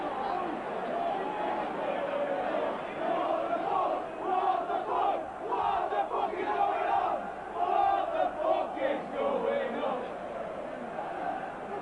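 A football crowd at Burnley v Luton Town, a 2000 league match, shouts and jeers at the match officials. The roar is dense and sustained, with swelling surges of voices throughout.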